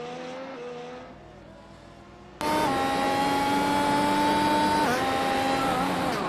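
Race car in iRacing with rear tyres locking under braking: a steady engine whine drops and then jumps into a loud, sustained high-pitched tyre screech with a wavering engine tone beneath it, close and with no talk.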